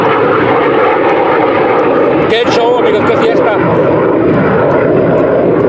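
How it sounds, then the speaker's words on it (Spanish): Military jet aircraft pass overhead during a nighttime campfire bivouac, a loud continuous engine roar filling the clip, with people talking and cheering over it. "escuchando los aviones de guerra"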